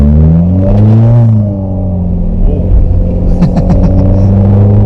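A Skoda car's engine revs steadily while being driven in manual paddle-shift mode, a loud continuous rumble whose pitch climbs, dips around a gear change, then rises again with a few clattering pops, with no talk.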